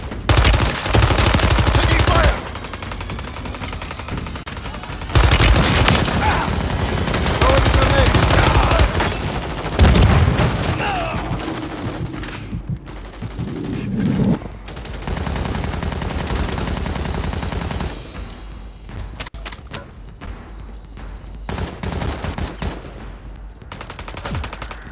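Sustained automatic gunfire from a Call of Duty Modern Warfare 3 Zombies match, with loud dense bursts over the first ten seconds, then lighter intermittent shots and scattered reports amid other game noise.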